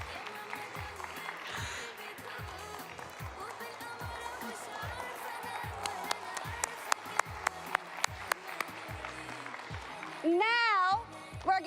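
Scattered audience clapping at a children's Saturday show, sparse claps and a few sharp hits under ongoing talk, with a brief musical tone near the end.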